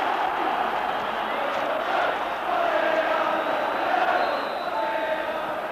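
A roaring crowd of about 50,000 fills the stadium at a Rangers v Hearts Scottish Cup semi-final, a steady, dense wash of noise that swells slightly and never drops away, with a commentator's voice over it.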